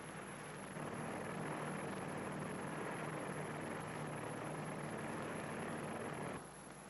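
A P-2V propeller aircraft drones steadily toward a nuclear test's ground zero, a faint, continuous engine roar that holds evenly before easing off near the end.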